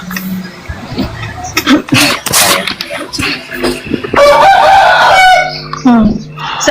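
A rooster crows near a heated group discussion, a drawn-out call partly mixed with overlapping talk, clattering and other noise, with voices heard before and after it.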